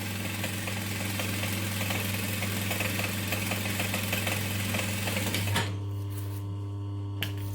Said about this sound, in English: So I'm just stitching 1/4 inch from the top.